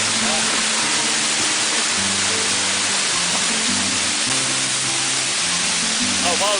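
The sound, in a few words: waterfall spray splashing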